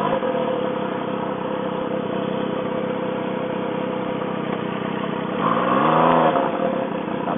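A motorcycle engine drones steadily in a Jakarta traffic jam near Kuningan. Near the end the engine climbs in a brief, louder rev before settling.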